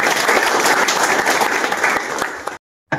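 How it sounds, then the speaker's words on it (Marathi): Applause from a gathered crowd at a scholarship distribution event, a loud dense burst of many hands clapping that cuts off abruptly near the end. "सर्वांनी सुप्रियाताईंसाठी जोरदार टाळ्या वाजवा"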